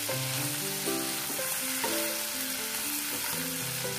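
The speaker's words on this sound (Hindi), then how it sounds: "वो ऐड कर लेंगे और थोड़ा सा सारी चीज़ों को हम फ्राई कर लेंगे" A paste of ginger, garlic, green chili and black pepper fries in a pan over low heat while cooking dal palak, giving a steady, close sizzling hiss throughout under a tuneful melodic music bed, with no talking.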